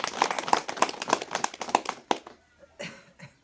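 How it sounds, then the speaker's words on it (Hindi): A church congregation at a healing prayer service clapping hands in a quick, even rhythm for about two seconds, fairly close, then trailing off into a few scattered claps. "ताली दे देते हैं।"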